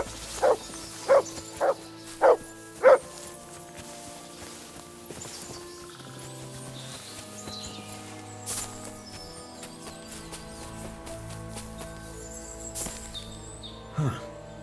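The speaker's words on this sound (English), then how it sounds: "Good dog, Mutz" A dog barks five times in quick succession in the medieval video game Kingdom Come: Deliverance 2, close and clear, followed by soft hoofbeats and ambient game music.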